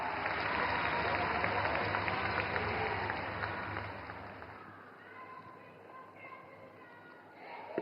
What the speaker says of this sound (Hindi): जोरदार तालियों से स्वागत करें माननीय मुख्यमंत्री जी का।